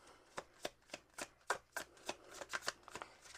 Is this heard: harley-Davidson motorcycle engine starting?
no